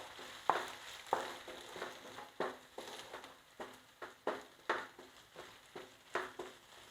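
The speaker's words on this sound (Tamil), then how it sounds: "அதனால தான் நான் கையை எடுக்காமல் வதக்கிட்டுருக்கேன்." Onions being stirred as they fry in refined oil in a pan, giving a soft steady sizzle with repeated scraping strokes of a spoon at a regular rhythm, close by and without any talk.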